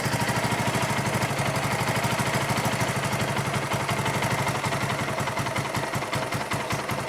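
Small engine idling on a cheap replacement carburetor with a high idle as it warms up, a steady, loud, evenly pulsing putter running unbroken throughout with no talk.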